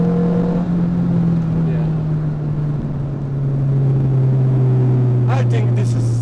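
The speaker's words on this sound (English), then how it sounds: "we're gonna do some acceleration out here. To the red line!" A Renault Clio Trophy hot hatch accelerating hard toward the red line, a loud steady engine drone rising gradually in pitch from inside the cabin, with a brief spoken word near the end.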